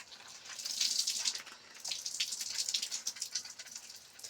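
Water drips and trickles as soaked bread is squeezed out by hand for homemade carp bait, a close, uneven run of splashes and patters that pauses briefly and then resumes.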